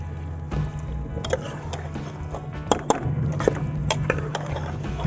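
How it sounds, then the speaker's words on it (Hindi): Half a glass of water poured into a pressure cooker holding meat with ground red chili, turmeric and cumin, heard as a soft splashing pour with a few clinks over a steady low hum, no talking. "आधा गिलास इसमें पानी का डाल देंगे।"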